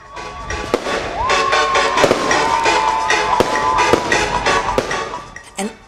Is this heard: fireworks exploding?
yes